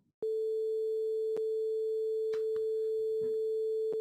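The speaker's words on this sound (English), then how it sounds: "So I'm going to go ahead and play a 440 hertz tone." A steady 440 Hz sine test tone plays from a computer, loud and continuous from start to end, with a few faint clicks and small rustles along the way.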